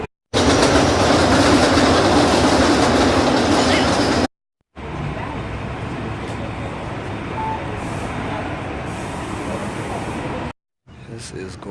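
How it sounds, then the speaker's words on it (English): Riding an above-ground train in New York City in the Bronx, a steady loud rumble of rolling wheels and car noise, cut by brief silent gaps, with some talking mixed in. "First time being on an above ground train in New York City."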